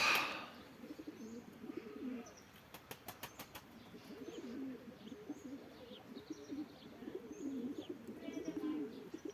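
Pigeons coo softly and repeatedly around a nest in hot weather, with a brief burst of flapping wings and a few chirps, all fairly faint and close.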